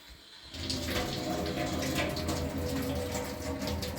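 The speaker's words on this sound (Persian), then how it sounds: "خب بذار بگیرمش زیر شیر آب سرد." Cold water runs from a kitchen tap onto a hot cake pan while baking a carrot cake, a steady rushing splash that starts abruptly and continues loudly and close throughout.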